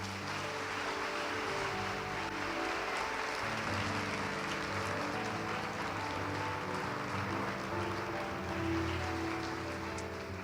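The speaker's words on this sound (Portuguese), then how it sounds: "Vamos aplaudir a Jesus?" Church congregation applauding, a continuous wash of clapping heard at a distance, steady and fairly faint over low music in the background.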